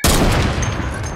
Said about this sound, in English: I'm gonna shoot the wall